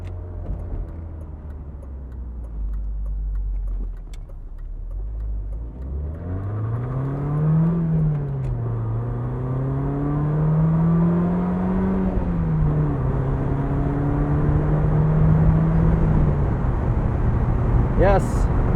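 A 1996 BMW Z3 1.9 five-speed engine revs up and climbs in pitch, dropping briefly as gears change, then pulls steadily at speed with road and wind noise.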